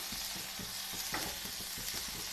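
Onion, green chilli, ginger and tomato fry in a pan for a kadai chicken masala, giving a soft, steady sizzle broken by faint stirring taps, quiet and close.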